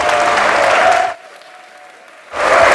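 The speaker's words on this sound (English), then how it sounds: "give them a big applause" An audience applauds student builders of a hydrogen racing car at a livestreamed car reveal, a steady wash of clapping for about a second, a brief quiet gap, then the clapping returns.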